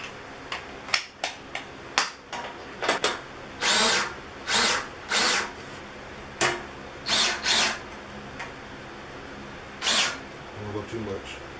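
A power drill removes bolts from a 2011 Nissan Altima seat slider assembly during a seat swap, firing in a series of short, close whirring bursts with clicks and handling noises between them.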